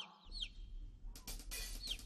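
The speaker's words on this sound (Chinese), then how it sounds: "是谁在学鸡叫" Small chicks in an animated cartoon cheep and cluck in high, quick chirps, faint at first and then in a denser flurry of bright calls over a low background rumble.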